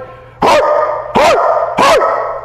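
Three loud, close dog barks come in quick succession, evenly spaced, each sharp and full.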